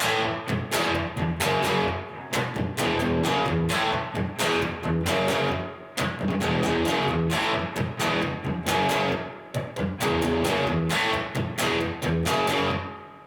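A distorted electric guitar plays a chunky, repeating riff of power chords with short rhythmic stops between phrases, loud and unaccompanied.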